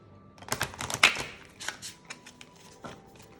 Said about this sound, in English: that was not a good shuffling.